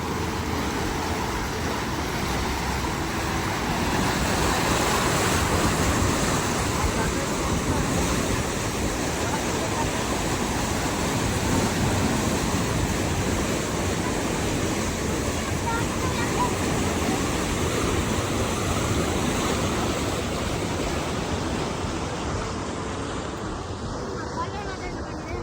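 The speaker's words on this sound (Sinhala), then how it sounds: "මේකේ ඩෑම් එකේ පල්ලෙහා මේකෙන් එන වතුර ටික මේ" Water rushes out below a dam in a loud, steady broadband roar that continues without a break, with wind buffeting the microphone and a voice talking over it.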